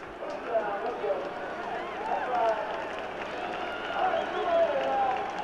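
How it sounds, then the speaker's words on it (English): A stadium crowd at a Virginia Tech versus Clemson college football game swells into building applause and cheering, a steady roar with rising surges, while a commentator talks over it. "You hear a little bit of applause building in the background, anticipating the first down"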